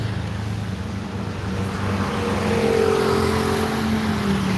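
A Jetbus 5 coach passes on a busy Bekasi road, a steady engine rumble with a rising hum as it draws near, set against constant traffic noise.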